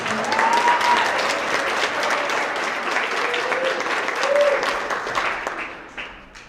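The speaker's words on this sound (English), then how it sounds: "Let's give another round of applause for our English language arts." An audience claps steadily through a round of applause at a middle school awards assembly, dense and sustained before tapering at the end.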